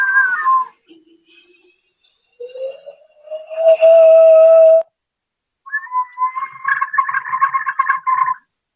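Several warbling, breathy tones from a ceramic water whistle bottle, sounded by the water inside it, rise and fall in pitch, some short and some sustained, with brief silences between them.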